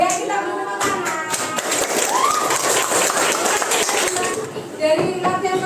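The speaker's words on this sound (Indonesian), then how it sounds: "Ya, kita tepuk tangan." A class of children claps together in a classroom, a steady burst of applause over lively chatter and a teacher's voice, loud and close throughout.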